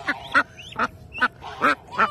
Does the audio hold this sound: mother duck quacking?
yes